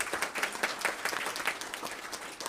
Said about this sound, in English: Can we give those 2 programs a big round of applause?